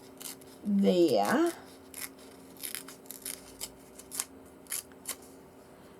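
Paper torn across by hand while assembling a junk journal page of rose and rosebud papers: a run of short, dry ripping and rustling bursts close by, following a brief spoken word.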